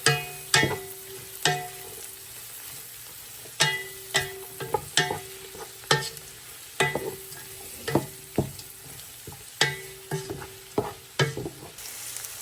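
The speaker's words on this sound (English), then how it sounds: "Let these start cooking with that bacon." Bacon with vegetables and diced squash frying in a pan, a steady close sizzle punctuated by repeated sharp clinks and scrapes of a utensil stirring against the pan, roughly every second, with no talking.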